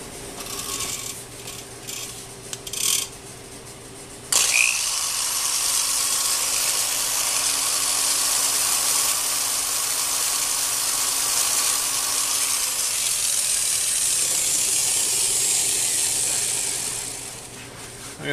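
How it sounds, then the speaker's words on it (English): Hand scraper fitted with a grooving tool cutting an oil groove into a Bridgeport milling machine gib: a sustained, even scraping rasp of metal on metal, close and steady for most of the span after a few short scrapes, fading at the end. "I got my grooving tool in the scraper. So now we're just going to put a groove in between those two holes."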